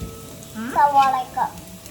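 Onions fry in a pan as they turn brown, giving a short, soft sizzle with a few brighter bursts and some faint tonal sounds alongside.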